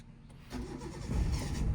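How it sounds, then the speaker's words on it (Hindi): A car engine turns over and catches while the car sits on a slope during a driving lesson, with a low rumble rising mid-clip and growing stronger and steadier toward the end, close by, with no talk. "अब इंजन ऑन करो"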